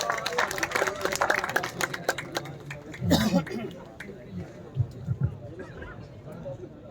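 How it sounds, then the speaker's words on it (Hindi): Applause from the crowd at a bhajan singing competition in Abdullaganj, greeting the Chhindwara group: a dense patter of hand claps during the first three seconds, mixed with a speaking voice, then thinning to scattered softer sounds. "कृपया जोरदार तालियों से स्वागत करें"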